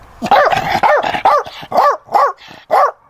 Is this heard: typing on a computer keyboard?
no